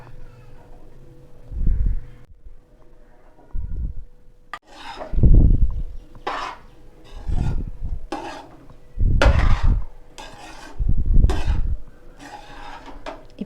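A spoon or spatula stirs vegetable fried rice with capsicum in a pan, giving repeated scraping, rasping strokes in uneven bursts separated by short pauses, close and fairly loud.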